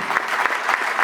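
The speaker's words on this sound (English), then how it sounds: "So hand of applause for YEEC Africa. Please clap." A crowd at a youth development and capacity building event in Nigeria claps, dense applause with rhythmic swells as groups of hands strike together, fairly close and loud, with no voices over it.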